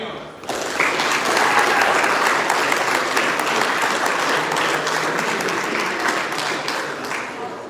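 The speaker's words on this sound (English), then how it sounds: "Everyone, can we please have a round of applause for Antonio?" Wedding reception guests break into loud, sustained applause for Antonio, a dense wash of clapping that swells in quickly and holds for several seconds before easing slightly, with a few voices mixed in.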